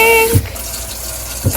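Tap water runs while Monstera Adansonii leaves are washed, a steady close hissing flow broken by two brief soft thumps.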